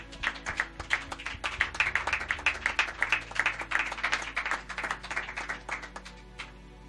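A church congregation breaks into lively applause, many hands clapping in a dense, fairly close burst that swells and then tapers away over several seconds, with no talking.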